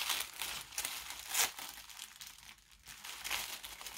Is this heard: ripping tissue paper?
yes